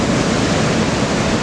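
Ocean surf breaking at Anglet, a loud, dense, steady roar of waves with no distinct individual crashes, heard close and alone.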